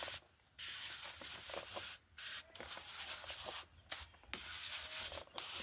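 Insecticide sprayed onto cabbage plants from a sprayer, a steady broadband hiss in repeated bursts broken by short pauses, close and fairly loud with no talking.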